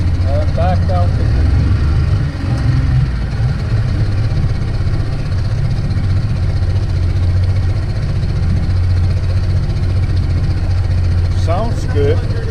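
A 50hp Mercury outboard motor idles steadily with a low, continuous rumble, loud and close, with brief voices speaking over it near the start and end.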